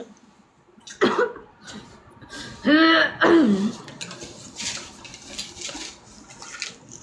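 Someone coughs and clears their throat in several harsh bursts at close range, and softer noises follow in between.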